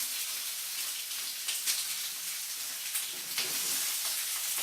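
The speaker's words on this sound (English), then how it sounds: "And that's a good sizzle." Almonds and tuna sizzle steadily in hot olive oil in a pan, a loud, continuous frying hiss with no talking.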